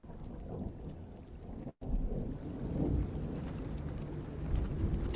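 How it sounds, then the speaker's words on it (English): Rumbling distant thunder over steady rain in the video game Avowed, a continuous low wash of rainfall with a brief total dropout early on, then swelling rolls of thunder. "Distant thunder."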